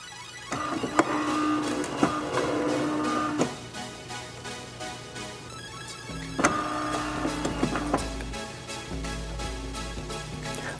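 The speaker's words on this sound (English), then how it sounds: "What that noise is the brewer cycling out the coffee" Philips 5400 LatteGo espresso machine cycling internally after brewing: a mechanical whirring and low motor hum punctuated by clicks and clunks, with a deeper rumble starting partway through, close and fairly quiet.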